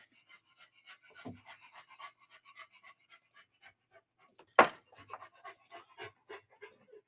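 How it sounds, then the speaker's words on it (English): A dog pants close by in quick, soft, even breaths. A single sharp knock cuts in partway through. "I don't know if y'all can hear her panting, but it's all I can hear."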